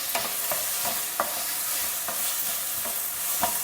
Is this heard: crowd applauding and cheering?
no